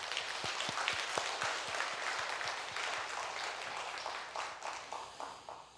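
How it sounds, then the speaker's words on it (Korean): A church congregation applauds during a Sunday service, a dense, steady wash of many hands clapping that fills the room and tapers slightly near the end. "기왕에 박수 한번 다시 해주시면."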